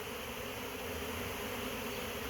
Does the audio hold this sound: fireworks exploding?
no